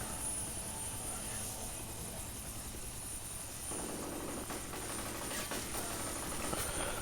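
Helicopter rotor and engine drone in the video game F.E.A.R. Perseus Mandate, a steady loud roar filling the scene with a rougher, choppier layer rising partway through, no voices.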